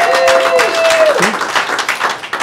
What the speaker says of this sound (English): let's have a round of applause for the Dandenong Club